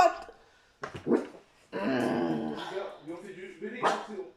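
A dog yips, whimpers and growls indoors in short, uneven bursts, close to the microphone, mixed with a voice speaking in French between and over the sounds.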